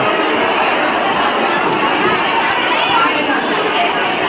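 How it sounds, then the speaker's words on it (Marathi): A dense crowd gathers at the Jivdani temple on a hilltop in Virar. Many overlapping voices form a loud, steady murmur of chatter that continues throughout. "मंदिराच्या वरती खूप गर्दी आहे."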